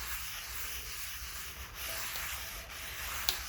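Oil being rubbed into a hot, freshly wiped pan, a soft continuous wiping and scuffing texture that stays steady and close at low volume, with a brief sharp tick near the end.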